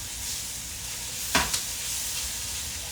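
Onions fry in a pan for a cumin lentil rice pilaf, a quiet, continuous sizzle broken by one sharp scrape of stirring near the middle.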